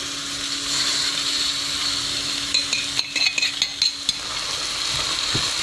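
Chicken skin fries in a pan with a steady, even sizzle throughout, joined midway by a short run of light scraping clicks as the pieces are moved about.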